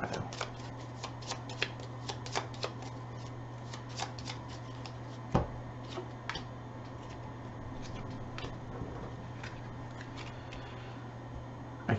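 A discard pile of playing cards being shuffled into a draw pile during a card game, with a steady run of soft riffling and snapping card sounds over a low hum, fairly close.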